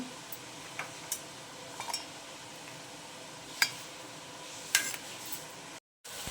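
Vegetables fry in oil for sambar, giving a steady soft sizzle under scattered clinks and scrapes of a utensil against the pan.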